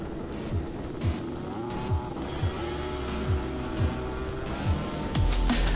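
Engines of 70mph racing karts roar steadily at a rolling race start at Daytona Tamworth, with a rising, straining drone and repeated rhythmic pulses, growing louder toward the end.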